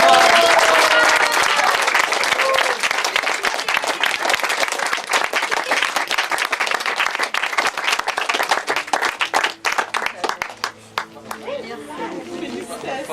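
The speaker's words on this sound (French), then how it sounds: "On peut les applaudir." A crowd claps warmly for newlyweds at a medieval-style wedding, dense applause mixed with chatter that thins into scattered claps and murmuring voices toward the end.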